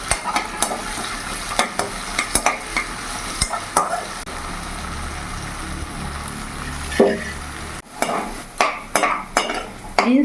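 Beans frying in a pan over a medium gas flame, a continuous sizzle broken by repeated sharp scrapes and clinks of a spatula stirring against the metal, loud and close, with a brief quieter stretch before the stirring resumes.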